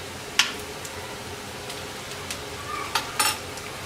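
Ginger-garlic paste goes into a pan of fried onions: a low continuous sizzle with a few sharp clinks and scrapes of a spoon stirring against the pan, up close.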